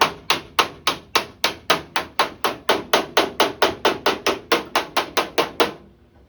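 Big hammer striking the distorted steel body panel of a 1946 Jeep CJ2A from beneath, about twenty sharp, ringing metallic blows in a steady quick rhythm, loud and close, then stopping.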